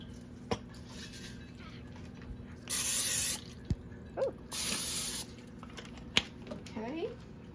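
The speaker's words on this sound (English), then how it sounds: "I'm going to spray my pan with some Pam." Two short bursts of hissing cooking spray into a pan, each about a second long, separated by quiet kitchen clinks and faint background hum.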